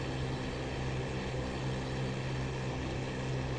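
A Focke-Wulf Fw 190 D-9 piston engine in a flight-game climb with boost engaged drones steadily and loudly, a continuous close propeller roar with no break and no voices.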